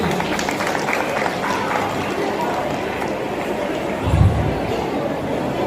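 Audience clapping at a school annual day celebration, a steady crowded patter of hands with some talk and a brief low thump underneath.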